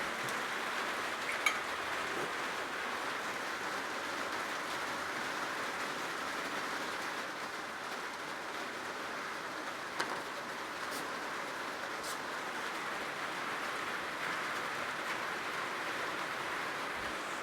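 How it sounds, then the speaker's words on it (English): Heavy rain falling outside makes a faint, even wash of hiss in the background, continuous and unvaried, with a couple of tiny clicks and no voices. "I hope you can hear me above the rain. It's pretty heavy out there."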